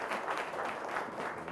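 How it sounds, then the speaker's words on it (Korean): An audience at a humanities concert applauds to welcome a speaker, a continuous, even wash of many hands clapping at moderate loudness. "뒤에서부터 나오실 텐데 큰 박수로 맞아주시면 감사하겠습니다."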